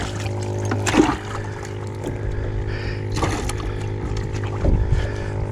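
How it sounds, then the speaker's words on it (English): An electric trolling motor whirs steadily on a fishing boat out on a lake while crappie fishing, a constant harmonic drone with a few bumps and knocks, and no talk. "Doggone trolling motor's gone haywire."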